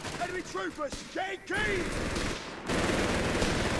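Machine-gun suppressing fire in Company of Heroes 3, a loud sustained burst of rapid gunfire that swells midway and keeps going to the end, with game sound effects and scattered clatter earlier on.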